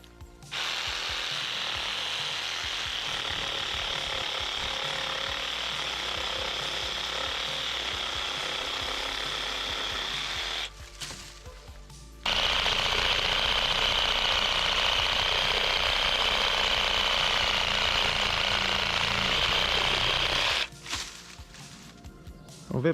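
A Parkside PASA 20 Li C2 cordless pruning saw cuts through a thick tree branch about 100 mm across in two long, loud, steady buzzing runs, split by a brief pause and ending with short bursts.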